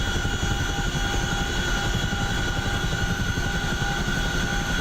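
Helicopter engine and rotor in DCS World on the Persian Gulf map, a steady loud turbine whine over a rapid low chopping thrum, continuous and close with no talk.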